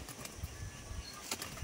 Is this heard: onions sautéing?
no